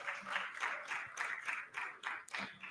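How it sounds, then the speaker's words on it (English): An audience at a university–industry panel event applauds as a panelist is welcomed to the stage, a faint, steady round of clapping from a modest crowd. "please welcome him with a round of applause"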